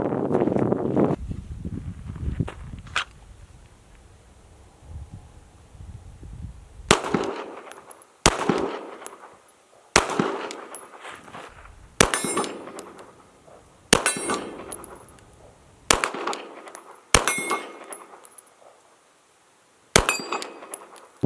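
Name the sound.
gun with red dot sight shooting at targets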